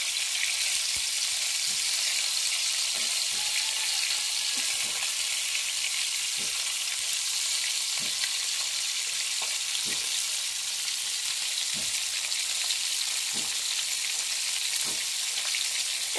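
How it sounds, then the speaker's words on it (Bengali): Fish frying in a pan for a Bangla fish curry, a steady close sizzle with occasional soft taps and stirring knocks, no voices. "এখন আমার মাছ ভাজিটি হয়ে গেছে"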